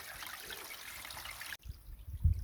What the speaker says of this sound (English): As I follow the stream up, it actually seems to get bigger.